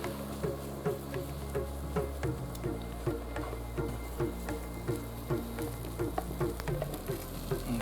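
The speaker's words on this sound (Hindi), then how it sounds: "ये भी हम इसमें मिला देंगे और अच्छे से इसको अब मिक्स कर लेना है।" Finely chopped mint is stirred into a mixture with a spoon, making quiet, rhythmic scraping taps against the vessel over a low, constant background hiss.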